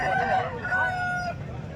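A rooster crows loudly and close at a busy country chicken market, its call ringing over a thick bed of clucking birds and crowd noise.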